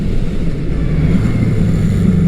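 Low, steady motorcycle engine rumble with a soft, uneven exhaust burble underneath as the bike decelerates, from a Mac aftermarket exhaust, sustained and fairly loud throughout.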